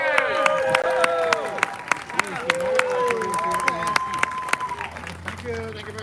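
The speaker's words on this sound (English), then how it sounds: "Give him a round of applause." A crowd at an outdoor vigil in New York claps steadily with scattered cheers, a dense patter of hands layered over whistles, calls and murmured voices.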